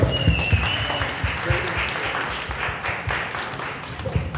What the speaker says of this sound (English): I also want to give a round of applause to you all as well for being a part of this journey with us.